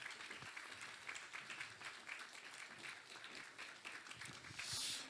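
Church congregation applauding during a Sunday morning worship service, steady sustained clapping from a crowd that swells briefly louder near the end, with no talk over it.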